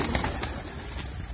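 Well-fed pigeons at scattered feed flap their wings in brief bursts, with faint soft cooing underneath, close by and moderately quiet.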